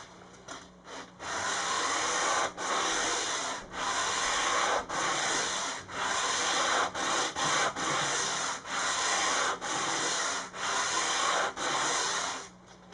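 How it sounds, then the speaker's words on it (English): Sandpaper on a radius caul rubs back and forth across the fretboard of a Rickenbacker-style bass replica, in about a dozen steady, evenly paced strokes, close and clear with no talking. "now I'm going to switch to sandpaper and a radius caul"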